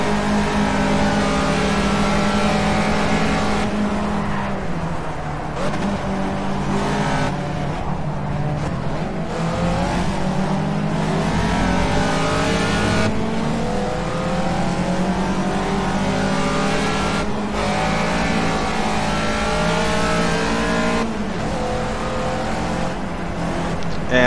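A Caterham Super Seven races around Snetterton in Project CARS, its engine roaring loud and steady throughout, rising and dropping in pitch with revs and gear changes.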